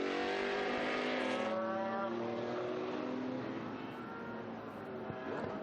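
A Dallara SP1 race car at the Estoril Classics historic meeting sweeps past on the circuit, its engine a loud high rising whine with a falling pitch as it passes, then a lower fading roar.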